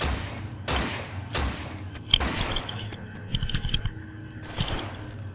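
Gunfire in the zombie game No More Room in Hell, several sharp, separate shots spaced a second or so apart, with clicking mechanical sounds and faint background noise between them.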